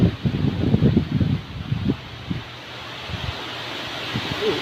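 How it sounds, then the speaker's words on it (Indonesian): Strong gusty wind roaring outdoors before rain, loud buffeting bursts at first that ease into a steadier rush. "Angin kencang."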